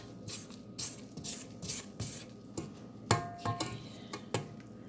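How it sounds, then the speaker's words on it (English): A spatula scraping down a stand mixer bowl and paddle while making petit four cake batter, with short repeated scrapes and taps in an irregular rhythm, close and fairly quiet. "I'm going to scrape it down"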